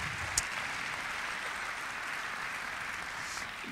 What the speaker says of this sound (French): si vous pouvez également les applaudir, je vous en serai gré